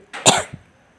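One sharp, close cough from a woman suffering a bad cough while making rotis at home on a hot day, followed by a brief softer catch, then near silence.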